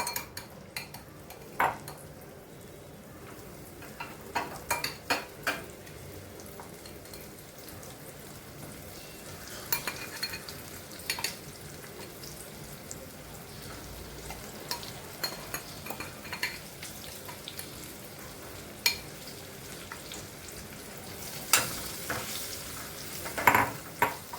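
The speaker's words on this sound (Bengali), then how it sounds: "তেলটা গরম হয়ে গেছে, আমি আঁচটাকে সিমে রেখে ঢ্যাঁড়সগুলো দিয়ে দিচ্ছি এর মধ্যে।" Okra dropped into hot oil over a low flame for bhendi masala, with a steady sizzle running beneath close, repeated clinks and scrapes of a utensil stirring in the pan, and sharper knocks scattered throughout.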